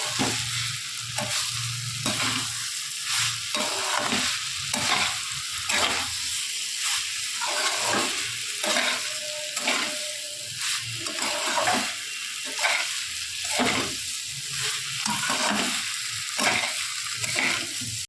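Fried young jackfruit stir-fried with spice paste, a loud close sizzle pulsing under steady rhythmic spatula strokes that scrape the pan roughly every second, with no talking.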